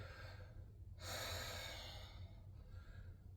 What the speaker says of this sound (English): coming back to that open mouth breath, breathing